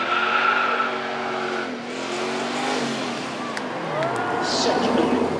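A 5-litre V8 supercar of about 300 horsepower driving on a race track, its engine note rising and falling through gear changes, loud and close, with someone speaking over it.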